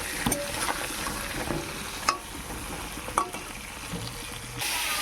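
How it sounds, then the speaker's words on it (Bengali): Pointed gourd (potol) pieces fry on low heat with a steady, moderate sizzle, broken by a few sharp clinks of a spatula stirring in the pan, and no speech. "অল্প আঁচ দিয়ে আমি পটল কটা একটু লাল লাল করে ভাজা করে নেবো"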